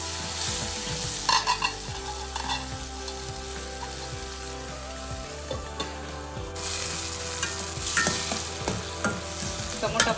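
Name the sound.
tomato frying in pan for bottle gourd curry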